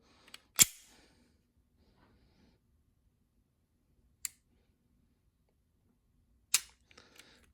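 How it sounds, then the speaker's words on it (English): Three sharp, isolated clicks from the trigger of a Sig Sauer P320 X5 Legion pistol being pulled and reset, widely spaced in near silence, with a few faint smaller clicks at the end. "let's just do a little trigger pull. And then a quick reset"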